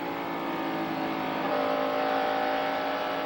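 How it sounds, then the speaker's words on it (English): Davey Allison's stock car at the 1991 Budweiser 500 roars steadily from an onboard position, the engine held loud and continuous as the throttle comes on and is eased slightly through the bottom of turn 4. "you hear him back in the throttle and then feather it a bit right on the bottom of turn 4"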